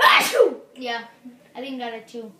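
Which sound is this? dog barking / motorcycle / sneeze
sneeze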